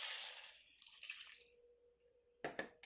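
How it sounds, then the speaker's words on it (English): Water pours into a wok of frozen meatballs, a splashing, hissing rush that fades into quiet, followed by a couple of short sharp splashes. "So we're going to add some water to that."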